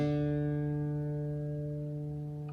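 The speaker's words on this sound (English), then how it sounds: "So I'm going to raise that open D a little bit to match this D." A single low open D guitar string, being tuned up in pitch, rings out clearly and fades slowly, its steady tone sustaining with no other sounds around it.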